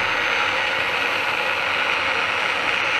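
A power sander fitted with 120 grit sandpaper works a small turned wooden coffee scoop, giving a steady, even whirring and rasping drone that holds unbroken throughout, fairly close and with no voices.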